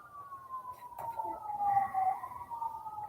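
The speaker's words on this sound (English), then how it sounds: "Sirens." A siren wails steadily at a distance, its tone gliding slowly downward and back up, with faint background noise and a brief thump at the end.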